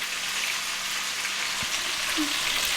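Small tilapia from a pond frying in a pan, a steady close hiss and crackle of hot oil with no pauses.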